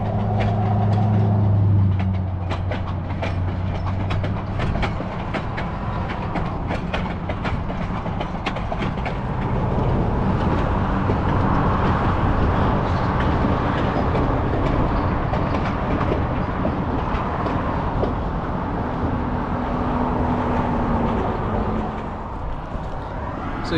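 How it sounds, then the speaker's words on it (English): A train in Oregon rumbles past with steady clickety-clack of wheels on rails and a brief low horn tone, the roar holding loud and continuous throughout. "Enjoy that shot of a train over here in Oregon"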